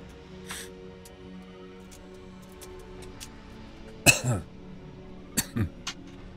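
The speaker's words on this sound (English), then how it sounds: "I'm about to have a coughing fit." A few sharp coughs up close, one forceful cough followed by a couple more, with a low steady hum behind them and no talking.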